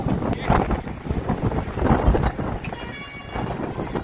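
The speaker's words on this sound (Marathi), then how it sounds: "बेकार हवा सुरू आहे ना पूर्ण हवेचा आवाज आहे" Strong gusts of wind buffet the microphone at a roadside stop on a hilltop above Khopoli, a continuous rumbling roar that swells and eases in waves with no speech.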